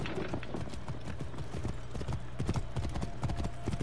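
Rapid clip-clop of horse hooves trotting steadily in the video game Assassin's Creed Origins, close and fairly loud, with a faint voice briefly underneath.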